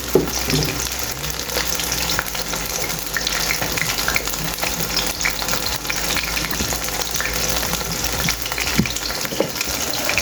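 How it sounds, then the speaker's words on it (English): Pieces of fish frying in butter on a stove give a steady, close, crackling sizzle with a watery hiss that continues unbroken, with no talking. "I'm putting the rest of the fish in the butter."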